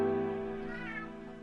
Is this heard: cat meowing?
yes